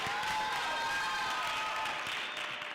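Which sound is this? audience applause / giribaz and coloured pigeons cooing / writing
audience applause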